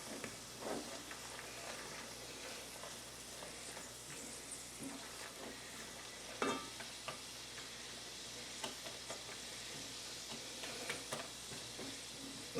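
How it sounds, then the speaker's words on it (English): Pecans caramelizing in butter are stirred in a pan: a steady low sizzle with light scraping and occasional clicks from the spoon, close but quiet, with no talking over it. "You need to keep moving them around so that the butter or the pecans don't burn"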